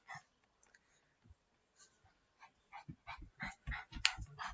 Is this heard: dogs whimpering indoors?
yes